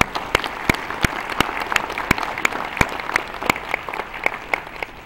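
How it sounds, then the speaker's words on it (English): A crowd at a 2009 college commencement applauds an award recipient: steady, dense clapping with sharp individual claps standing out, filling the hall at an even level throughout. "let's give her another round of applause"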